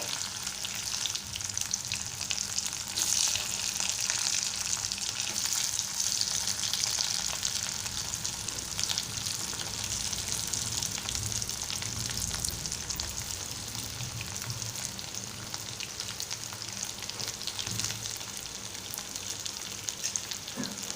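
A boiled potato stirred into oil in a frying pan for batata poha, giving a loud, steady, close sizzle that runs throughout with faint scraping of stirring and no voices.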